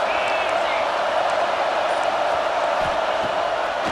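Dense stadium crowd noise roars steadily at a college football game in EA Sports College Football 26, a constant wash of many voices without distinct cheers.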